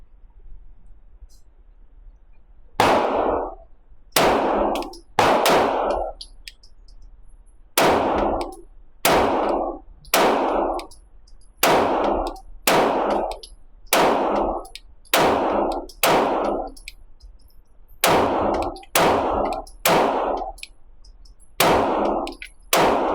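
Stoeger STR-9 pistol fired repeatedly, sharp loud cracks in irregular pairs and singles with short gaps, each with a brief ringing tail, and no talking.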